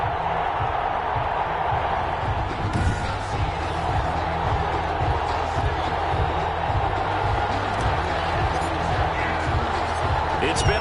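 Steady roar of a stadium crowd in an NFL football video game, Chicago Bears against Detroit Lions on Thanksgiving Day in Detroit, a continuous loud wash of sound with a low rhythmic pulse running beneath it.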